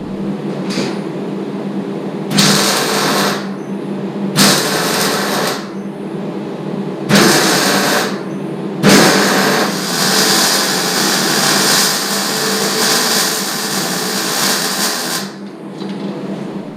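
Land Rover Discovery 1 rub rails being welded in a home garage: several harsh, crackling welding bursts of a few seconds each, separated by short pauses, ending in a long continuous run, loud and close.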